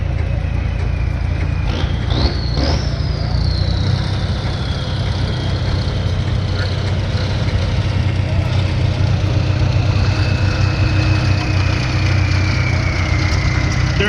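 A 1953 Farmall Super M tractor idles at a tractor and vehicle parade with a steady, low, continuous engine rumble. A wavering tone and faint crowd noise sit in the background.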